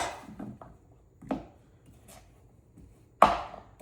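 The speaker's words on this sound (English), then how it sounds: "The only reason I'm chopping them is so I can boil them a lot faster." A knife chops food on a board while someone prepares ingredients for boiling in a home kitchen, giving a handful of sharp, separate close-up taps spaced unevenly, the last one loudest.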